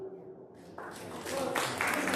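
Applause from a live audience at a mind-reading show builds from scattered claps into a fuller round over about two seconds, with a voice heard at the start.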